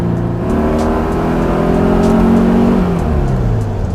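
Customized turbocharged 1967 Volkswagen Beetle accelerating hard, its engine note climbing steadily in pitch over four seconds, loud and close, then easing off near the end, with no talking.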